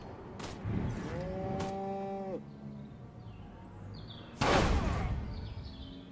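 In the game Destroy All Humans, a radioactive exploding zombie cow gives a long, drawn-out moo, followed by quieter lowing and a sudden loud noisy burst.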